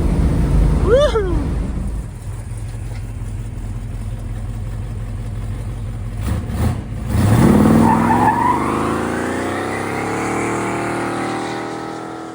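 A 1971 Dodge Super Bee with a Ram Charger air grabber hood does burnouts, its rough idle giving way to a loud engine rev and a long tire squeal that swells and then fades.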